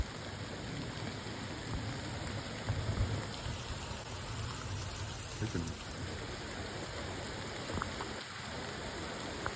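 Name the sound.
light continuous rain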